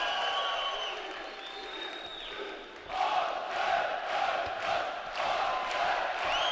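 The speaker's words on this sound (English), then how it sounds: "the Azerbaijani crowd really getting behind their man Mamedov" An arena crowd in Baku roars and cheers in surges for Azerbaijani boxer Mamedov during an amateur world championship bout, the swells of noise rising after a quieter stretch with commentary faintly underneath.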